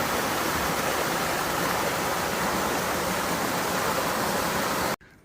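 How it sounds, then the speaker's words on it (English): Waterfall at Comer's Creek on the Appalachian Trail, a loud, steady broadband rush of falling water that carries on unbroken and then cuts off abruptly near the end. "So I guess I'm gonna see a waterfall here soon."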